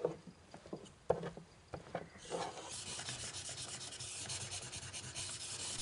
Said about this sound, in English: Nakano polishes the lacquer with charcoal made from the Japanese wood oil tree.